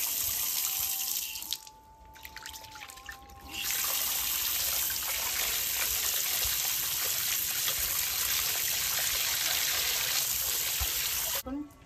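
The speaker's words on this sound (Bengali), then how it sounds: "এবার মাছটা ভালো করে ধুয়ে নেব।" Fish is rinsed under a running kitchen tap, steady splashing water close by, with a brief quieter pause early on before the flow resumes strongly and then stops at the end.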